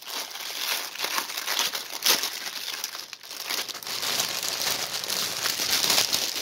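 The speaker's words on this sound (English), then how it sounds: "I'm going to take it out of the bag." A plastic bag crinkles and crackles close up as a pre-stamped cross stitch kit is pulled out of it, with dense, irregular rustling throughout and no talk.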